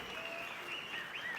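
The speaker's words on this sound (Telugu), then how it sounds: "గట్టిగా చప్పట్లు కొట్టి అభినందించాలి." Steady, fairly faint crowd applause fills a political meeting hall with a continuous hiss of many hands clapping together, no voices on top.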